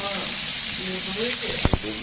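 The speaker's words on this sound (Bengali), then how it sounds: "মাথাগুলো বেশ ভাজা ভাজা হয়ে গেছে" Fish heads frying in a pan for a pui shak dish give a steady, close sizzle that runs the whole time, with a couple of short scraping stirs near the end.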